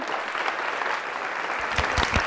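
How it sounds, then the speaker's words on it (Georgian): An audience at a school quiz contest applauds a contestant with a short burst of steady clapping from many hands that grows slightly denser toward the end. "აპლოდისმენტები მას"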